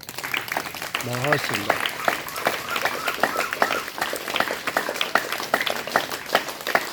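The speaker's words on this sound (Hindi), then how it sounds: "एक बार जोरदार ताली बजाएंगे।" An audience claps together at an outdoor gathering in a garden, the dense patter of applause running steadily from start to finish while a voice speaks briefly near the beginning.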